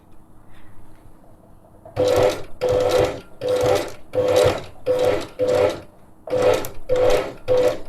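A sewing machine stitches in short, loud, evenly spaced bursts during a simple garment alteration using free-motion sewing, each run of whirring lasting about half a second with brief pauses between, close and alone without any talking.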